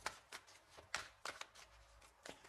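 Tarot cards shuffled and drawn for a reading, faint, irregular papery slaps and flicks spaced out over a couple of seconds in a quiet room.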